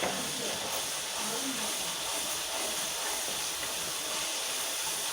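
Matar chaat mixture frying in a pan, a steady, close, broadband sizzle and hiss holding constant throughout.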